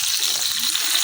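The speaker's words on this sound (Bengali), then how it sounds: "মাছগুলো দিয়ে ভর্তা করানোর জন্য একটু কড়া করে ভাজছি।" Pangas fish pieces frying hard and crisp in a hot pan, giving a steady, close, dense sizzle that holds at an even level throughout with no pauses.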